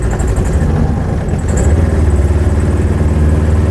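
A motorcycle engine labours uphill in second gear on a village road, a steady loud low drone that thickens and throbs harder in the second half as the load increases.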